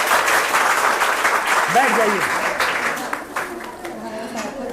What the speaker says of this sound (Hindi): रितिका के लिए 2 कॉपियां तो एक जोरदार ताली होनी चाहिए